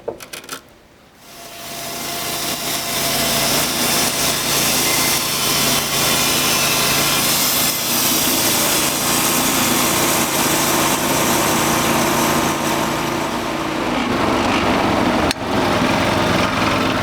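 Bandmill sawing through a log with a loud, steady engine drone and blade noise that spins up within the first two seconds, then runs continuously close by.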